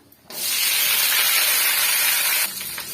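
A loud, steady sizzling hiss of onions and curry leaves hitting hot oil bursts in and fries continuously, then eases slightly near the end.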